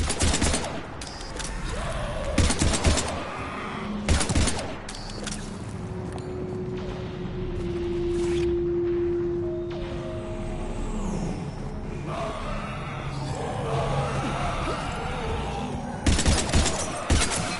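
Bursts of rapid gunfire from the shooter game Mass Effect crackle loudly at the start, again around the four-second mark and near the end, with a steady rumbling battle din and sustained tones filling the stretch between.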